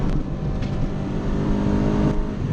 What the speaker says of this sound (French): Le moteur est un peu plus rageur.